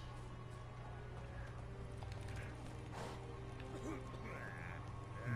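The horse Roach from the video game The Witcher 3 trots with faint hoof clip-clops beneath a steady low game hum, and a voice speaks briefly over it.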